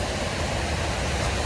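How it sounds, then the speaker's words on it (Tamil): Continuous broadband rush of a river flowing down from the hills near Coimbatore, a steady moderate wash of water with no talk. "அதெல்லாம் சேர்ந்து தான் இங்கே ஆறா ஓடுது"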